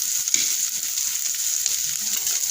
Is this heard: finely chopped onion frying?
yes